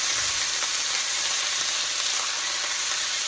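Sausage and ground beef sizzle steadily in a pan, a loud, continuous bright hiss of frying with no voices.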